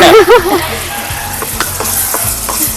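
Ginger garlic paste frying in a pan for egg fried rice, a loud, close, steady sizzle with a few stirring clicks, preceded by a short wavering whistle-like tone at the very start.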